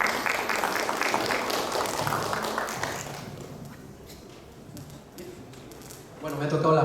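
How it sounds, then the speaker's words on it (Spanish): An audience at a health training program gives a burst of applause for an invited guest, strong at first and then fading out, before a new round of clapping picks up near the end. "Por favor, fuertes aplausos para él."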